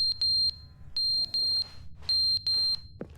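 Fire alarm low-battery chirps in The Stanley Parable Ultra Deluxe, bright electronic beeps coming in quick pairs and clusters over a low droning hum, loud and close, with no talking.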